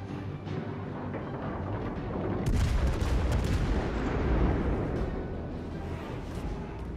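Heavy naval gunfire from the Scharnhorst battleship in World of Warships: Legends, a loud booming salvo arriving around the third second over a constant rumbling background of battle noise.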